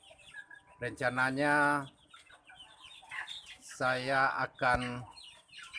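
Chickens cluck and squawk in a 10 by 5 metre coop, with several loud, close bursts of clucking alternating with someone speaking nearby.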